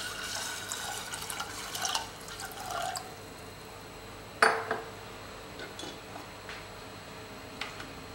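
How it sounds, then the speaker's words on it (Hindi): About half a litre of water is poured into a pressure cooker for a chicken curry. A faint splashing pour is followed by a few scattered drips and light clinks of metal. "लगभग 1/2 लीटर पानी डाल लेंगे।"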